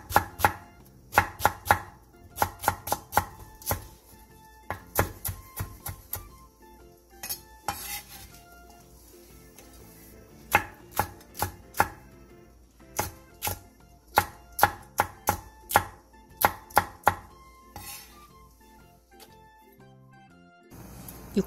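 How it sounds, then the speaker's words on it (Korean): Knife on a cutting board slicing half an onion into strips and cutting green onion and two Cheongyang chili peppers on the diagonal for Korean soup, with rapid, close chopping bursts and brief pauses between runs. "양파 2분의 1개를 채 썰고 대파 3분의 1개와 청양고추 2개는 어슷 썰게"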